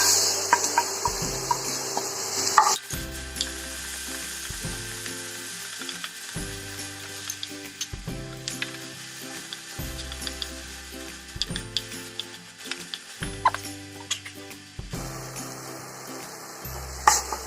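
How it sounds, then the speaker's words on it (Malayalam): Ground masala paste fries in oil with popping mustard seeds for a Goan-style brinjal curry, a soft sizzle running under louder background music with rhythmic notes. "കടുക് പൊട്ടുമ്പോൾ ഈ അരച്ച കൂട്ടിടുക."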